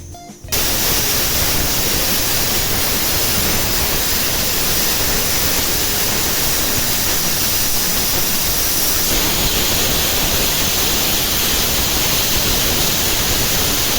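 Pressure cooker on the stove cooking soaked dal with salt, a loud continuous hiss of escaping steam that holds steady and brightens slightly partway through, alone without talk.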